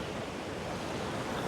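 Water waves at the shore, a steady wash of surf noise with wind buffeting the microphone, loud and continuous.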